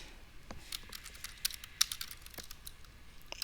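Typing on a computer keyboard, a close run of sharp, irregular key clicks with a few louder taps, heard alone without talk.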